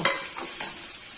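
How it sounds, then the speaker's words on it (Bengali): Fried potatoes and okra dropped together into hot oil with spices in a pan, giving a steady sizzle with a couple of quick stirring scrapes, close and alone. "এখন আলু ঢেঁড়সগুলি আমি একসঙ্গে ছেড়ে দিলাম, কারণ দুটোই ভাজা জিনিস তো।"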